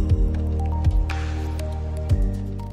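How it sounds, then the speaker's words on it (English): A water balloon squashed under a car tire gives three dull, close squishing thumps with a low wet thud each time, spaced across a few seconds, and a faint background hum runs between them. "As the weight of the tire falls on the balloon, first it resists, but at last it explodes and water comes out."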